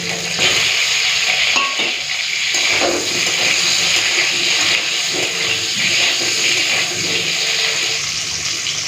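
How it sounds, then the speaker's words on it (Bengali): Pieces of raw green banana frying in hot oil, a loud continuous sizzling hiss with watery bubbling and some pan noise, no voices. "এই তেলেই কাঁচকলার আলুটা ভেজে নিচ্ছি"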